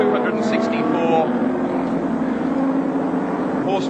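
Racing car engines at Oran Park in 1985, a 2.8 litre twin-cam Toyota Supra running close behind a 3.5 litre BMW, giving a steady, droning engine roar with a commentator talking over it throughout.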